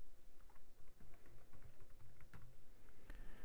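A computer keyboard clicks as a custom property name is typed, giving quiet, irregular keystrokes in short bursts with brief pauses between them.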